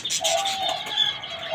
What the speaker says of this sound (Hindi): यहाँ पे सारी की सारी डब्स और एक फिंच आ गई हमारी